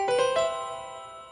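Bell voice on a Lowrey touchscreen organ plays a few quick chiming notes that ring out in a clean, sustained decay, close and without talk.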